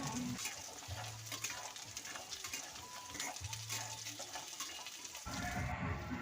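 Lentil dumplings (bori) fry in oil while a spatula stirs them, producing a steady close sizzle with scraping stirs and brief low tonal hums, continuous throughout without talking.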